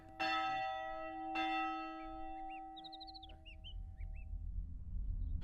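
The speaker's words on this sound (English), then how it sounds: "While the church bell tolls in the background, Willie tells me about Rietfontein" A church bell tolls twice, strong and close with long ringing decay, in an outdoor setting in Austria; birds chirp and tweet through the quieter second half.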